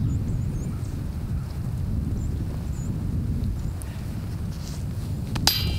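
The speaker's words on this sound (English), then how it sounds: "It's getting really windy." Steady gusting wind roars low and constant across the microphone on an outdoor disc golf course, with faint distant chirps above it and a short clatter near the end.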